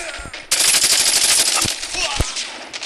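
Rapid automatic gunfire from the Call of Duty Mobile video game erupts in a loud sustained burst, followed by a few sharper single shots, with a voice briefly heard underneath.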